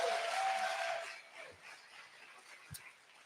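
A pitch night crowd of entrepreneurs and supporters gives a round of applause that starts as a dense wash of clapping and fades quickly to scattered claps and quiet room noise.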